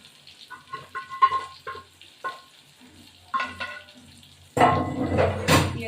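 Meat pieces drop into a hot pan for a home-style dish and start frying, with a few soft clinks and scrapes at first, then a sudden loud, steady sizzle that fills the rest of the sound close by.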